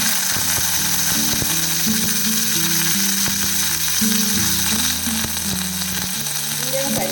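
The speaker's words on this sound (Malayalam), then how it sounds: "ഇതിലൊരു 1/2 ടീസ്പൂൺ ജീരകം ഇട്ട് കൊടുക്കുകയാണ്. എന്നിട്ട് ഒരു 1/2 ടീസ്പൂൺ പെരുംജീരകം ഇട്ട് കൊടുക്കാം. കുറച്ച് കറിവേപ്പില." Cumin, fennel seeds and curry leaves sizzle in hot oil for a cowpea masala, a steady crackling fry with scattered clinks and scraping from stirring throughout.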